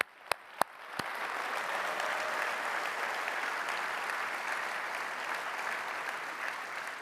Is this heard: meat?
no